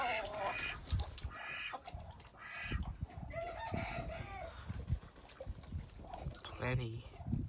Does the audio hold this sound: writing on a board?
no